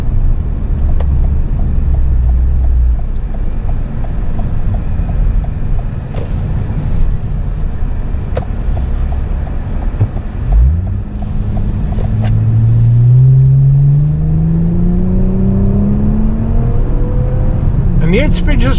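2024 Toyota Camry TRD with a V6 engine and 8-speed gearbox, cabin road rumble giving way to a smooth rising engine note as the car accelerates, with a person talking throughout.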